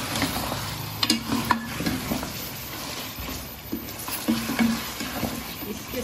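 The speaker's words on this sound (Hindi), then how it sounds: "और 5 मिनट आलूओं की भी भुनाई करेंगे," Potatoes fry and get stirred in a pot for aloo gosht, a sizzling hiss broken by repeated scraping and clinking of a spoon against the pan, close and alone without talk.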